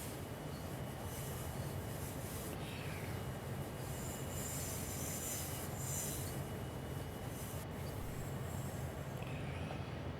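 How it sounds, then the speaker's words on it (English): A train in Train Sim World 3 runs with a loud continuous rumble of wheels on rails, a high squealing whine rising and fading over it, steady throughout and without talk. "The train's making weird noises."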